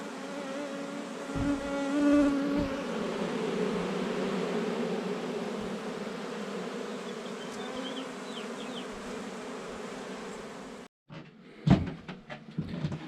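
A dense, steady buzzing of many bees in a barn attic during hive removal fills the space, close and loud, with a few clunks and knocks near the end.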